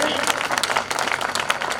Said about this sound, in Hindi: तालियां कम है, तालियां और मुखर कीजिएगा।